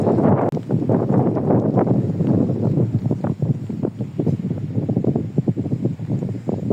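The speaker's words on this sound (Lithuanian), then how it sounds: "Tikrai vėjas tai baisiau, stiprus ir šalta." Strong, cold wind buffets and roars continuously in gusty, rumbling waves on high ground in Lithuania's Zanavykai region, loud and close, with no voices.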